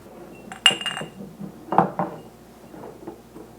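Half-pint glass canning jars clink together while being filled with thick pizza sauce, giving two sharp close clinks among softer knocks and pauses.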